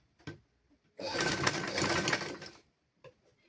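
A sewing machine stitches a seam on a children's garment in one close burst of rapid, even whirring lasting about a second and a half, framed by a few soft clicks and quiet pauses.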